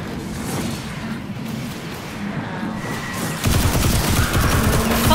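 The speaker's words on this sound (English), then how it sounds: "What were you shooting, Jordan?" Gunfire in the video game Destiny 2 crackles continuously through a dense fusillade of rapid shots, growing louder and heavier partway through, with booming impacts and no clear talk over it.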